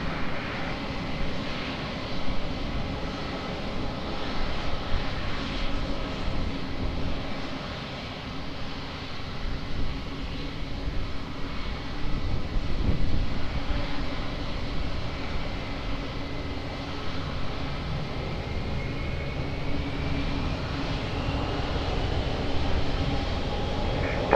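An airliner on approach to runway 20 at Lisbon Airport drones in as a broad, steady engine roar that swells slightly and holds, heard from a distance outdoors without talk.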